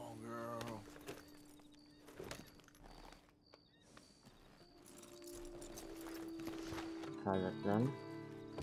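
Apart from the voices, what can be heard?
horse hooves in video game Red Dead Redemption 2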